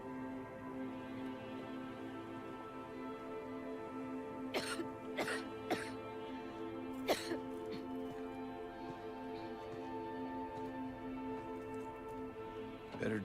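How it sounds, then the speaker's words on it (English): A character in the Silent Hill 2 Remake game coughs and clears the throat in a short cluster of harsh bursts, then one more, over a quiet, droning game-score background. "Better do something about that cough."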